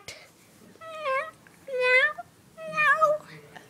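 A small child imitates a cat with three drawn-out, whiny meows, each rising then falling, spaced about a second apart and close to the microphone.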